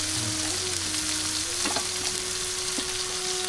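Malabar spinach and sponge gourd frying in a pan, a dense, even sizzle held close throughout, with a few soft stirring knocks and a faint tonal hum in the background.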